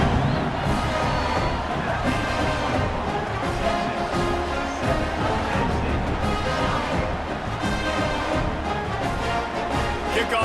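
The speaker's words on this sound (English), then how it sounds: "this crowd is feeling themselves after that last drive" A large stadium crowd in EA Sports College Football 26 roars and cheers steadily after a touchdown drive, a dense, continuous wall of voices with shouts rising out of it throughout.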